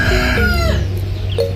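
A bird that is not a pigeon gives a loud, close, drawn-out crowing call with a falling, harmonic tone over a steady low background hum.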